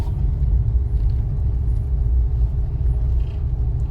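A car creeps along on half clutch with no accelerator, giving a low, steady engine rumble and road noise from inside the cabin, continuous and moderately loud.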